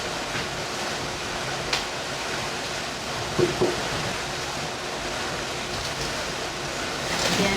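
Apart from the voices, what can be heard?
rushing river water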